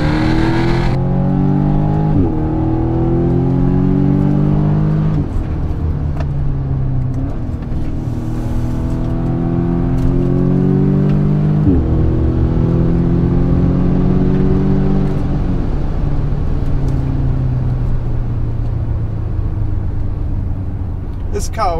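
A 2017 Audi S3 engine revs hard through repeated gear changes, pitch climbing steadily then dropping at each shift, loud and close throughout.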